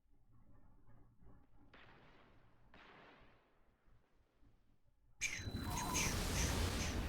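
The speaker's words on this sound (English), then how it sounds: "Oh, there's gunshots over there." Gunfire in the video game Destiny 2: Edge of Fate, with a few muffled distant bursts early on, then a sudden loud, sustained barrage of shots close by for the last two seconds.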